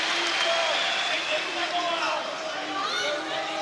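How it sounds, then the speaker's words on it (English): An arena crowd at an OKTAGON 32 MMA event in Ostrava cheers loudly for a fighter, a sustained roar filling the hall beneath close commentary. "big cheer as they separate"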